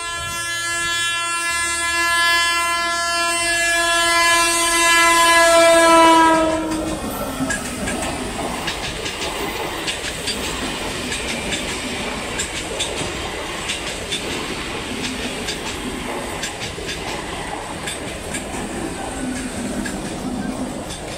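A train passing a railway level crossing in Somra Bazar, Hooghly: a loud sustained horn blast, then the rolling rumble and rhythmic clatter of wagons going by close at hand.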